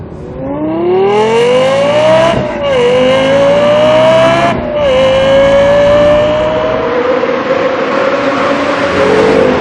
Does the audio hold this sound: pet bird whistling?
no